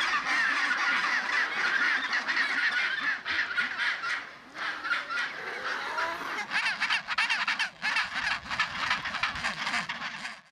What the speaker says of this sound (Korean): 갈매기와 비슷한 바다새이기 때문에 굉장히 큰 소리로 우는 소리가 늘 어딘가에선 들리고 있고요